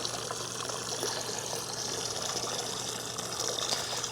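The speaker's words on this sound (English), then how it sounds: "All right, we're filling up, about to spill over, and I'll stop this test." Water from a garden hose on a Vevor hose reel pours steadily into a filling container, a continuous close gushing rush with no talk over it.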